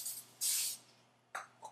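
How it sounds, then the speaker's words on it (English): Smart Balance cooking spray is spritzed onto a pan in a kitchen: a short hiss, then a longer, stronger burst, heard up close with no talking. "So I use the Smart Balance spray here."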